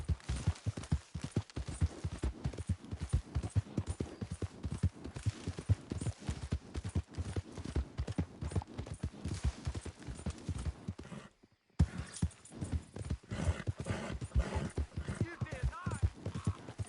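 Horse hooves pound in a fast, steady gallop in the video game Red Dead Redemption, a rhythmic thudding clip-clop that runs on continuously with a brief dropout partway through, while someone talks over it.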